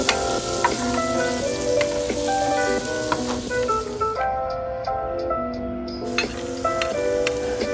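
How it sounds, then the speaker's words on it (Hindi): Chopped vegetables sauté in a tablespoon of butter in a pan, giving a dense, continuous sizzle with crackles and occasional stirring clinks over tonal background music. "पैन में 1 टेबलस्पून बटर ऐड करें, सब वेजीज को कट करके डाल दें।"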